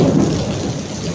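Heavy rain pours steadily outdoors with a low rumble of thunder running under it, a dense continuous wash at close range and no voices.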